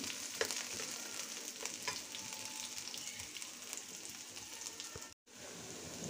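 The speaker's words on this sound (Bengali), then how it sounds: "পেঁয়াজ, গরম মশলা ভাজা হয়ে গিয়েছে।" Onion and whole spices (black pepper, cloves, bay leaf, fennel) fry in oil with a soft, continuous crackling sizzle and occasional stirring clicks. It has no speech and a brief dropout near the end.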